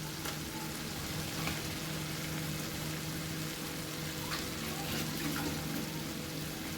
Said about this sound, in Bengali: চিংড়ি মাছ দিয়ে মশলাটার সাথে কষিয়ে নেব।